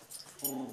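A puppy whimpers softly nearby in a short, thin whine that rises over faint room noise near the end, with no talk.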